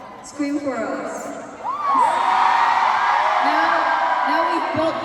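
Concert crowd at a K-pop soundcheck at KCON LA screaming and cheering, a dense wall of high shrieks and whoops that swells louder after a couple of seconds and holds steady, with a voice on the speakers briefly over it.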